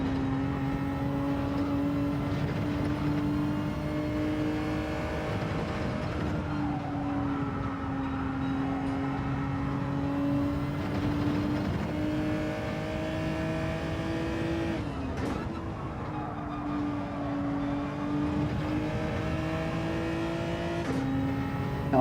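A race car engine in Gran Turismo 7 during an online daily race drones steadily, its pitch climbing and dropping as the car accelerates and brakes through corners, with no talking.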